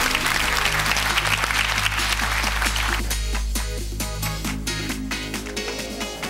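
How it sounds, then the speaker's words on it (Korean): A studio audience on a KBS quiz show applauds in encouragement for an eliminated contestant, with loud sustained clapping and a band playing alongside it. "격려의 박수 부탁드리겠습니다."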